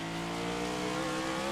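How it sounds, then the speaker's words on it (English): A race car in a sim racing game at Watkins Glen winds down its engine into turn one. The engine drone is steady, close and loud throughout, with no talk. "Hear that car wind down into turn 1"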